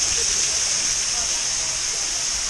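A waterfall at a cave site rushes in a steady, full hiss of falling water, close and unbroken.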